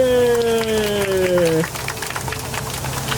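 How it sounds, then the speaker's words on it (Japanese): A crowd on a night Jungle Cruise boat at Tokyo Disneyland breaks into applause after a falling tonal effect ends, a brief scattered clapping over a low engine rumble. "優秀な船長に拍手"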